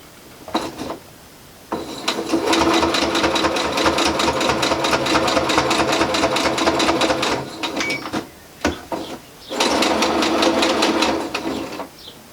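A sewing machine stitches a seam on a homemade reusable face mask, running loud and close in two long bursts of rapid rhythmic whirring, with short handling clicks and pauses between runs.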